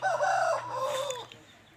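A five-and-a-half-month-old long-tailed rooster crows once, close and loud, its call rising then trailing off into quiet.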